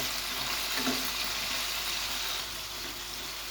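Chicken pieces frying in oil for a New Year chicken fry, the pieces turned so the undersides brown. A steady, close hiss of oil runs on without pause and eases off slightly toward the end; nobody speaks.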